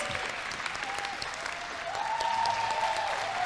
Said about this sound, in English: Can we give them another round of applause and let's stand up for them.